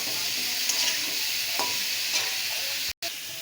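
Soaked cumin and turmeric paste sautéing with potato and green banana in a pan, a steady close sizzle with faint stirring scrapes, broken by a brief cut near the end.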